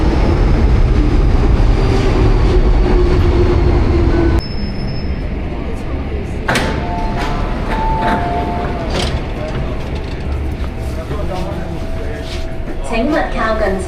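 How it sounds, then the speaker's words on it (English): An MTR metro train rumbles loudly as it arrives in Mong Kok, Hong Kong, then runs on with squealing wheels and rattling carriages, close by and continuous. "Yeah, train coming."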